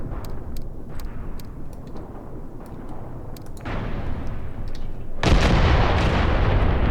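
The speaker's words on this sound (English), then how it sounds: "the mortar strike that I called on this enemy gun seems to have arrived" Mortar rounds landing on an enemy gun position in the war game Graviteam Tactics Mius Front, heard as a continuous heavy rumble with faint ticking, swelling into a broad, loud roar of blasts near the end.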